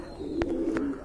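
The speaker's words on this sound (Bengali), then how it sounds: "এটা হোমা কবুতর।" Homa pigeons at a farm give a soft low coo, a steady murmuring tone broken by two brief brighter calls, close by and moderately loud.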